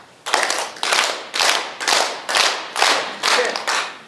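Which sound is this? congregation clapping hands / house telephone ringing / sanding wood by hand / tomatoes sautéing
congregation clapping hands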